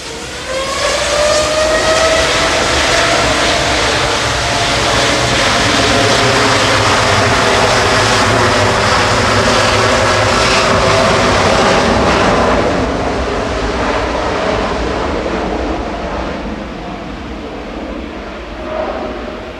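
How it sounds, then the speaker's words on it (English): A Qatar Airways Boeing 787 Dreamliner departs Manchester Airport, a loud, sustained jet roar with a rising engine whine that holds steady for most of the time before easing slightly toward the end, with no talk. "Qatar departing now back to Doha with flight 22."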